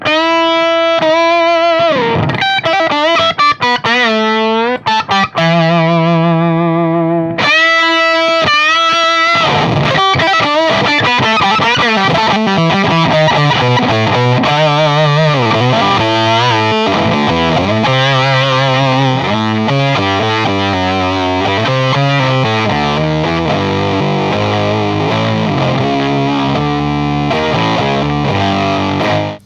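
Electric guitar through an octave fuzz pedal plays a string of thick, buzzing riffs and sustained notes, loud and continuous throughout.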